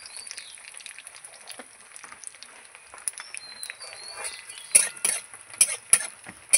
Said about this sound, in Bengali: আবার একটু নাড়িয়ে চাড়িয়ে নেব।